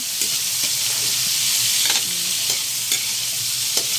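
Squid sizzles and fries steadily in a pan, a loud, continuous hiss of oil broken by occasional scrapes and stirs of a utensil. No one speaks over the cooking.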